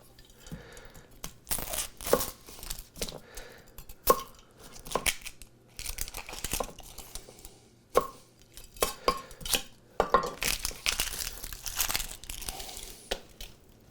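A whole onion is cut up on a board for soup, giving a run of irregular close knife chops and crisp crunches, with short pauses between bursts.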